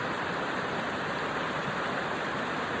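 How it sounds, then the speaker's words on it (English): A creek rushes by nearby in a continuous, even roar of flowing water, with no other sounds standing out. "Creek rushing by behind us."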